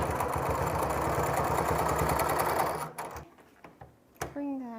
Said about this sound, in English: now I'm going to use the machine to stitch along it again so that the seams match the rest of the jacket